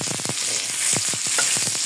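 Onions sauté in a pan for pancit canton: a steady hiss of hot oil runs throughout, punctuated by a quick series of spatula clacks at the start and more scattered stirring knocks later, close and fairly loud, with no talk.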